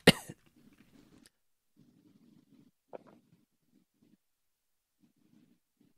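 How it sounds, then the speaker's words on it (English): One sharp cough bursts out at the start, followed by a quieter second cough midway, with soft low rumbling and faint movement noise in between. "Y'all don't want to hear me coughing."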